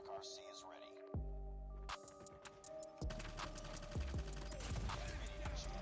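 FR556 rifle fire in the mobile shooter COD Mobile, rapid bursts of gunshots layered with game effects and tonal hums, growing denser toward the end, with a player talking over it.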